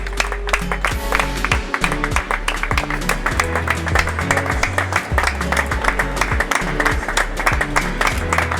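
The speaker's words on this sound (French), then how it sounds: "Encore et encore. On l'applaudit." Audience applause at a live French stage event where a doctor is being welcomed, a dense steady clapping that lasts the whole stretch, blended with loud rhythmic music.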